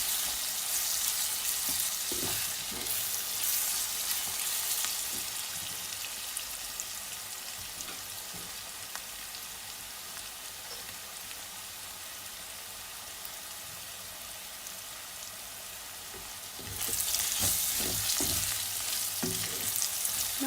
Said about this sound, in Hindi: सिर्फ 1 से आध मिनट तक ही हम लोग ये अदरक लहसुन को फ्राई करेंगे